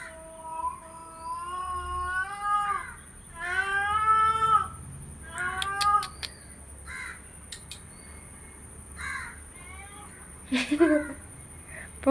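A stray Persian cat cries with a series of long, wavering meows, some drawn out and some short, fairly close and clear over a quiet background with a thin, constant high whine.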